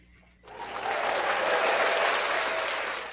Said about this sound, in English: it's supposed to be clapping